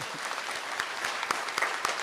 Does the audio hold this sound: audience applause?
yes